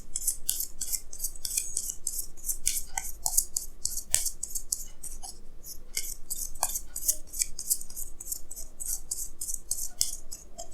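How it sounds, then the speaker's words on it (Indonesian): Tarot cards being shuffled and handled during a reading, giving a steady run of crisp papery flicks and snaps, close and continuous throughout with no talk. "Jadi di sini saya akan tarik lagi 2 kartu tambahan ya."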